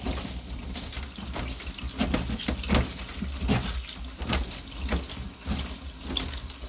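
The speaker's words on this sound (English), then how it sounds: "So I'm gonna wash the broccoli, then I'm gonna stay there to drain off." Broccoli washed in a food strainer under a running kitchen tap: a steady, close rush of splashing water with small surges, and no voices.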